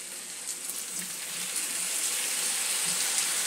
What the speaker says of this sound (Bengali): বন্ধুরা, সামান্য জলের ছিটে দিয়ে দেবো যাতে বেগুনটা ভালোভাবে সেদ্ধ হয়ে যায়।